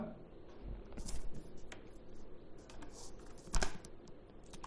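Typing on a computer keyboard while building a PowerPoint slide, with soft irregular key clicks and a couple of sharper taps sitting under low room noise, close and fairly faint.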